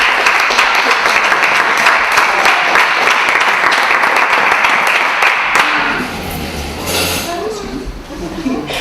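Audience applause at a community project evening event, a dense, loud burst of clapping that tapers off after several seconds as voices and room noise take over.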